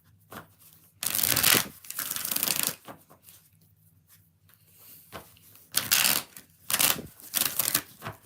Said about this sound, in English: 7 shuffles for Thalia.